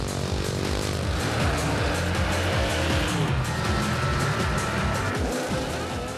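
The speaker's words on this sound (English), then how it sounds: "Drag racing is a contest between two vehicles over a flat, straight distance, normally a quarter of a mile." A drag racing car roars loud and close with a sustained, harsh engine blare that barely varies throughout.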